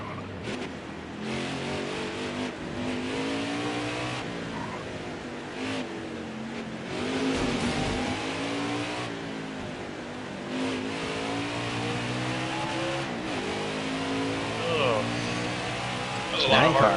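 Stock cars racing at Charlotte in a NASCAR Xfinity Series race, a steady engine roar with revving passes, heard throughout under continuous commentary.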